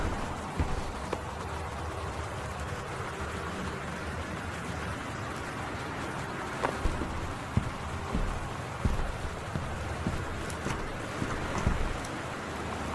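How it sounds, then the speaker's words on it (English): Steady rain hisses evenly throughout in the video game Gone Home, with a few louder drips and patters standing out toward the end; no voices. "it's raining that way, so I can only hear it out this side"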